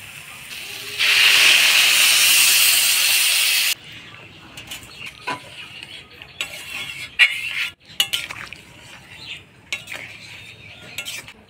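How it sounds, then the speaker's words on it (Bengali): A pot of chickpea curry gravy with potatoes, made with the chickpea cooking water, gives off a loud, steady steam hiss for about three seconds. Softer clinks and scrapes of utensils against the pot follow, with no talking. "ঝোলটা ফুটতে থাকুক"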